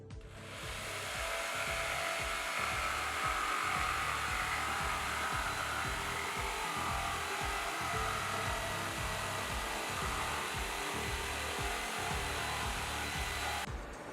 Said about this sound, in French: Alors j'y vais à la scie sauteuse parce que c'est plus rapide